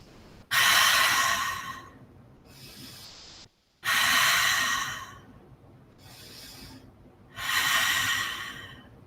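Slow, deep breaths during a yoga session: long audible inhales and exhales through the nose, close and loud, alternating in a steady rhythm over several cycles.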